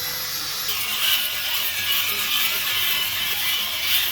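A steady, high-pitched power drill whirs continuously with a faint grinding edge while honing the cylinder bores of an LS engine, close and moderately loud, with no voices.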